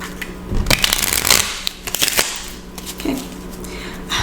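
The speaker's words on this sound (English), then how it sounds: "We're going to shuffle 4 times." A deck of cards is shuffled up close in several quick riffling bursts, with short pauses between them.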